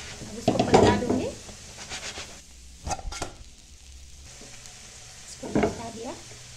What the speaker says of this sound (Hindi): पिसा हुआ दाल, अब इसको पका दूंगी